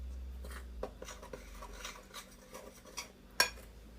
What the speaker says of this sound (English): So just give this a quick mix.